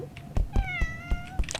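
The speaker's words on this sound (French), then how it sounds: "En gros, c'est un chat." A single drawn-out cat meow rings out in the Roblox game Deadly Delivery, clear and fairly close, punctuated by soft rhythmic thumps underneath.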